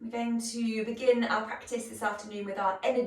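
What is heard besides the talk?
No distinct noise like a dog, phone or traffic.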